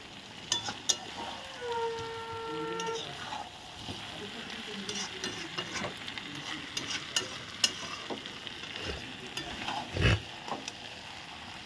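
Large meat leg pieces being stirred and fried in a pan while a curry is sautéed down, with a steady low sizzle and scraping spoon strokes throughout, fairly quiet and close.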